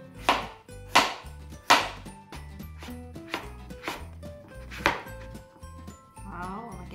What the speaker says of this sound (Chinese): 然后切片